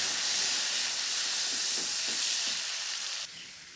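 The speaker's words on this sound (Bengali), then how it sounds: "ওই মাছ ভাজা তেলের মধ্যেই আলুগুলো ছাইয়া দিন ভালো করে ভাইজা লুম" Potatoes fry in oil left over from frying fish, giving a dense, loud, steady hiss and sizzle that eases slightly toward the end.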